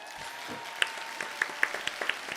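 Scattered, sparse clapping at an award ceremony, a few distinct claps over a low murmur, fairly faint.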